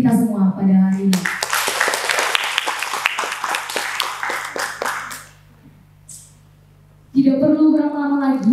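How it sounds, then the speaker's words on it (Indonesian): Audience applause at a student association working meeting: a voice speaks first, then dense clapping fills several seconds before fading to near silence, and talk resumes at the end. "Kita tepuk tangan untuk kita semua pada hari ini."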